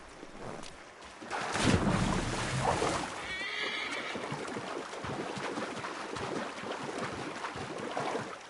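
A horse in the video game Assassin's Creed 3 lets out a drawn-out neigh, fairly close, over faint hoof clops and wind.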